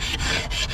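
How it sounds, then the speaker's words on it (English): Metal hive tool scraping propolis and wax off a queen excluder, a close, harsh rasping with quick repeated strokes and brief breaks between them. "So quite simply, just scrape off the propolis and the wax."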